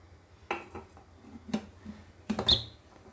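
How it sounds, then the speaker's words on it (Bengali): A lid is fitted onto a metal idli cooker with a few quiet, scattered metallic clinks and taps, the last pair sharper and brighter, in an otherwise hushed kitchen. "আমার ইডলির ঢাকনাটা এঁটে দিলাম কুকারের"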